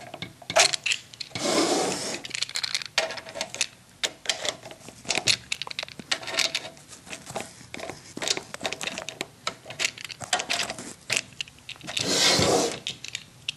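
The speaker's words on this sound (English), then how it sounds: "you just carefully take your screwdriver and slowly twist. You see it start to lift a little bit." A screwdriver twists and pries at the plastic dashboard trim of a GM Grand Prix, giving close, irregular scraping, creaking and clicking bursts with brief pauses, a louder grinding stretch near the end.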